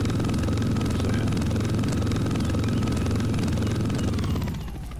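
Helicopter flying in the Roblox game BRM5, a constant loud rotor and engine drone that fills the whole stretch before easing off slightly at the very end.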